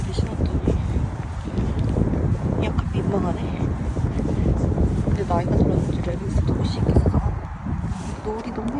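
Strong wind blowing outdoors by the Han River, buffeting the microphone as a loud, continuous rumbling roar with gusts throughout.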